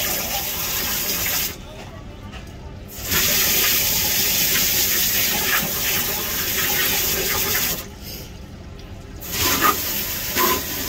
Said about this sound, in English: But first I'm gonna rinse all this crap off